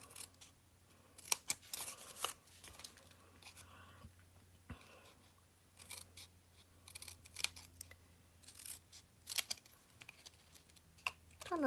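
Paper tabs being snipped with scissors for a homemade treat box, a run of short crisp cuts in uneven bursts, close and fairly quiet, with soft handling rustles between them and no talking.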